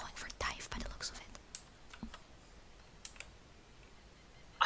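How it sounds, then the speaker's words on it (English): Quick clicks from a computer keyboard during an Overwatch team scrim, scattered bursts of taps with brief pauses, fairly close and moderately loud, with faint voices in the background. "I love it how your keyboard's louder than their voices"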